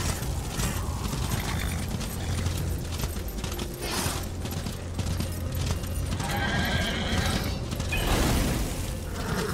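Horse galloping through open terrain in the video game Darksiders, a steady rhythmic clip-clop of hooves with occasional whinnies over a continuous layer of game ambience and mechanical noise, close and moderately loud throughout.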